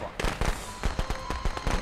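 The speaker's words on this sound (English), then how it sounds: "Go firecracker, go!" Firecrackers bursting in the Friday the 13th video game, a rapid irregular string of sharp cracks and pops over about two seconds, fairly loud and close, with a faint steady tone underneath.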